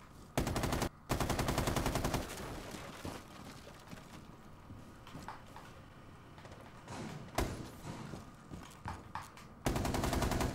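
Loud bursts of automatic rifle fire in Rainbow Six Siege, several sustained volleys separated by brief gaps with quieter thuds, footsteps and scattered single shots in between, no talking.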